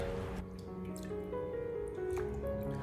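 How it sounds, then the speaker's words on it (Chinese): Chicken legs are rinsed in fresh water in a home kitchen basin, with soft continuous splashing, sloshing and dripping close by and no voices. "然后再重新的添加清水，继续的给它淘洗一下。"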